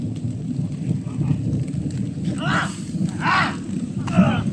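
Thunder rolls in a low, continuous rumble through a rainy storm, with heavy rain hissing steadily, and voices talking loudly over it.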